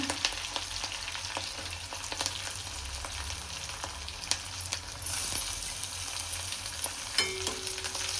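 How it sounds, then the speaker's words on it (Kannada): Onions fry with garlic in a pan, a close, steady crackling sizzle with scattered pops and stirring scrapes, growing slightly louder partway through. "ಈರುಳ್ಳಿ ಇದೆಲ್ಲ ಸ್ವಲ್ಪ ಚೆನ್ನಾಗಿ ಫ್ರೈ ಆಗಲಿ"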